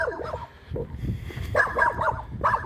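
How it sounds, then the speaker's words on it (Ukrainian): Dog barking outdoors on a village road, a few close, loud barks and yips in short bursts separated by brief pauses, with no talk. "Що ти гавкаєш? Ану гавки."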